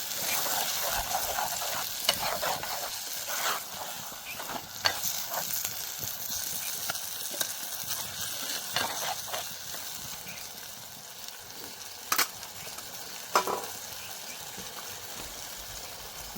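Onions soft from frying sizzle in a pan after tomato puree and spices are added for a cashew-onion curry, with a spoon stirring and scraping in irregular strokes under a gentle, steady fry.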